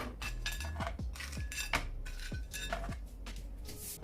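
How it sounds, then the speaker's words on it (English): Lobster tails and utensils clatter on a cutting board, a series of sharp, close knocks and clinks in an irregular rhythm, with no talking. "So let me put them on the cutting board here."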